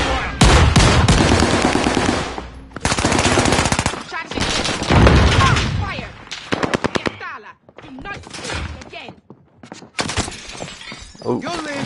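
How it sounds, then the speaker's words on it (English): Heavy bursts of video game gunfire, rapid machine-gun volleys and single shots with shattering impacts, loud and close, rattling in clusters with short gaps between them, while a player talks over parts of the action. "Getting shot at."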